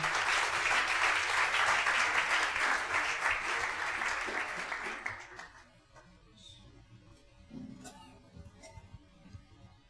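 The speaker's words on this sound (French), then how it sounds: "Alors on va inviter le serviteur de Dieu, le docteur Raphaël Soukan John, avec acclamation" Audience at a church gathering applauds to welcome a preacher to the stage, dense sustained clapping for about five seconds, then fading to scattered claps and faint crowd noise.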